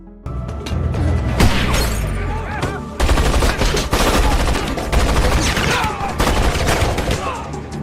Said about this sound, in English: Tad and his team then get into a shootout with Don's men